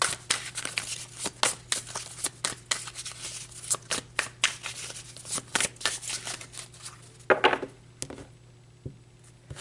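Tarot cards are shuffled by hand in quick, crisp riffles and flicks, close and fairly quiet, with a rapid uneven rhythm and no talking.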